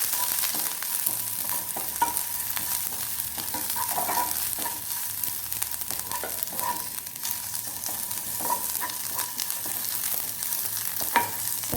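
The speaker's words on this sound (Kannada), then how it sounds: "ಸ್ವಲ್ಪ ಶುಂಠಿ ಪೇಸ್ಟ್ ಕೂಡ ಹಾಕಿ, ಶುಂಠಿ ಬೆಳ್ಳುಳ್ಳಿ ಪೇಸ್ಟ್ ಹಾಕಿ ಇದನ್ನು ಫ್ರೈ ಮಾಡ್ಕೊಳ್ಬೇಕು." Onions frying with ginger garlic paste in a pan, a continuous soft sizzle with periodic stirring clinks and scrapes of a spoon, close and even.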